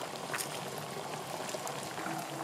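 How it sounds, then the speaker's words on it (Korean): Water heating in a pot for glass noodles, a continuous bubbling, rolling boil heard close and fairly steady throughout. "당면을 삶을 물을 끓여 보겠습니다."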